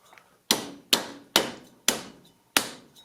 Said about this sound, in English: you can take your socket, your extension socket, and a hammer, and it'll go right on